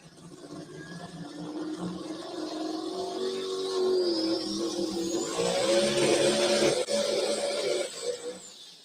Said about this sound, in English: you heard it come up and start smacking that rev limiter